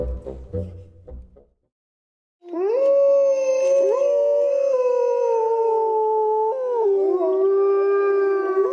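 An Iberian wolf gives a long, loud, sustained howl with wavering pitch that holds for several seconds, preceded by a brief burst of other noise and a short pause.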